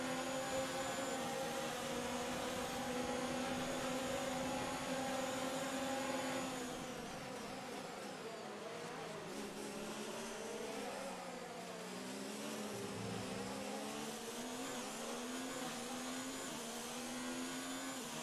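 Formula 1 race cars at top speed during the Mexican Grand Prix in F1 2019, a loud, high engine whine that shifts pitch partway through as the cars push toward the corner, sustained without speech.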